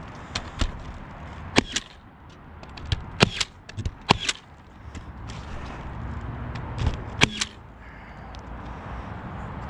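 Nail gun firing into a roof bath fan vent, a series of sharp separate snaps, some close together, over quiet outdoor background.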